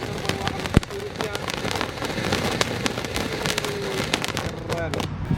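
Firecrackers, a 100-shot mercon set, lit by a remote control car, crackle in dense rapid bursts with sharp pops, steady and continuous throughout, with a louder bang near the start and faint voices underneath.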